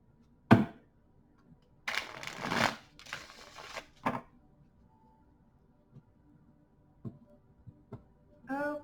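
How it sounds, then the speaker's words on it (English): Mystical Manga Tarot cards shuffled by hand in a few short riffling bursts with quiet pauses and scattered small taps between them, close and fairly soft, no talking. "Cards are pre-shuffled, but I'll just give them a few here."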